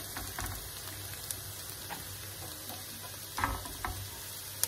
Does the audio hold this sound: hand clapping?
no